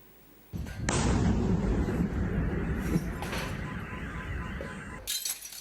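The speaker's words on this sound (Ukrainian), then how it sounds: "Такі вибухи лунають у Нікополі щодня. Сьогодні зранку росіяни знов обстріляли місто з артилерії." A sudden loud, broad crashing blast of artillery shelling in a town that rumbles on for several seconds, then a second sharp burst near the end, with no talking.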